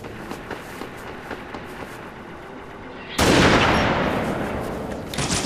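Sniper rifle gunfire in a Halo multiplayer match cracks out among game sounds, with a loud burst midway that leaves a sustained, noisy wash of battle ambience.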